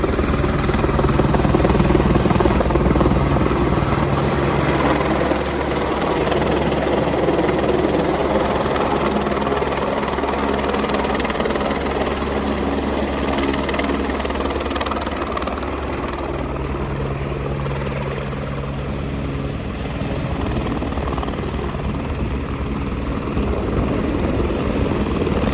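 A nearby helicopter from a fan-lifting job comes in to land, its rotor and engine making a loud, steady, continuous drone throughout with no talk.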